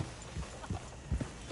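Hooves of a horse-drawn coach clip-clop in a steady, moderate walking rhythm in the Red Dead Redemption 2 video game, soft and close against a light background wash.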